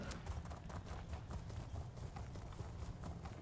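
A horse gallops in The Elder Scrolls Online, its hooves beating a quick, continuous clip-clop rhythm, fairly quiet and heard on its own without talk.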